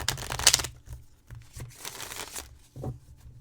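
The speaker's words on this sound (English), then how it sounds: "I'm going to do two more shuffles like this, and no cut shuffles" Tarot cards being shuffled by hand, giving a few rapid papery riffles and soft slaps in short bursts, close and fairly clear with no talking over them.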